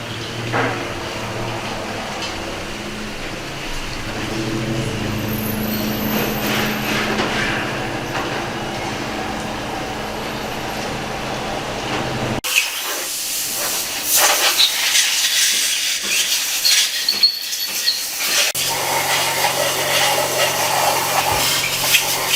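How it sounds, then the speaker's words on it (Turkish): Water jets flushing dirt out of the oil and water channels of an engine block in an engine rebuilding workshop, a broad continuous hissing spray that shifts in tone midway, close and loud. "Yağ kanalı ve su kanalı her tarafından bu şekilde suyla pislikler akıtılıyor"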